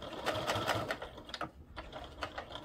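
Close, quick bursts of rapid needle clatter as a sewing machine bastes fabric for a travel cord organizer, stopping and starting in short runs.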